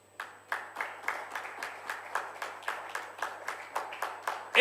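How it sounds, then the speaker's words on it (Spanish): A church congregation claps for the Lord in steady rhythmic unison, roughly three claps per second, fairly faint and without voices. "Denle un aplauso al Señor"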